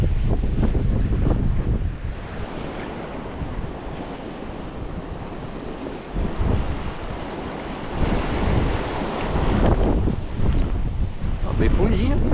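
Strong wind and a rough sea at a rocky fishing spot, with waves surging and crashing nearby and gusts buffeting the microphone in loud, uneven swells, while someone talks intermittently over the roar.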